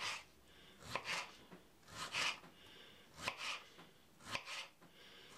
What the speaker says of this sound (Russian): Помидоры вымоем и нарежем кружочками.